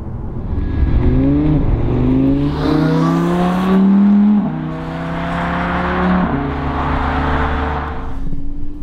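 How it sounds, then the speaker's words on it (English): An Audi R8 V10 Spyder's engine revs loudly and aggressively, its pitch climbing through several rising sweeps with brief dips between them, close and steady with no talk over it. "You get the aggressive noise from the engine"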